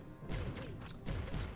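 A cannon being destroyed by level 5 archers in Clash of Clans, heard as loud crashing, thudding destruction sounds in two heavy bursts, dense and close with a booming low end.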